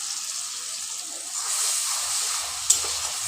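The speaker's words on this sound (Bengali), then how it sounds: "এবার আমি এর সঙ্গে অ্যাড করলাম টমেটো আর কাঁচা লঙ্কার পেস্ট।" Tomato and green chili paste frying in a hot pan, a loud continuous hiss of sizzling with a brief sharp click near the end, no voices.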